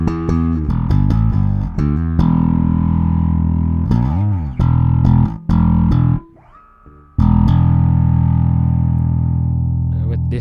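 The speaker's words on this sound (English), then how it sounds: "Now let's bring in our distortion pedal." A bass guitar played through a distortion pedal gives loud, gritty sustained notes with a few pitch slides and short plucked phrases, one brief pause in the middle, with no talking.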